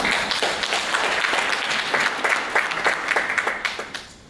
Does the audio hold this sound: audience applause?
yes